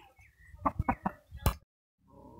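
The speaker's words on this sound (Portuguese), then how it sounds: "Eu vou ter que me retirar que a galinha tá desesperada, ó lá, tá vendo? Já tá procurando o ninho para botar." A hen clucks in a quick run of five or six loud, close calls while searching for a nest to lay an egg, then falls quiet before faint background noise returns.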